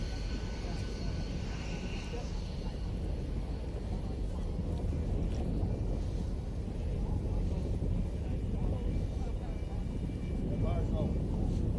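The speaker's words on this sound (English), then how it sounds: "low and to your left, Jerry Connolly's on the takeoff roll" An aircraft on its takeoff roll at a military air show in Utah, a continuous, fairly distant engine roar with wind noise, heard under an announcer talking over a public address system.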